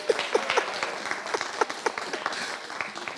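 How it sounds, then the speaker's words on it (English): Live audience at a New York comedy and music show clapping along in a steady rhythm, a dense crowd of hands with sharp repeated peaks, fairly close and alone. "I like how many people clap to it."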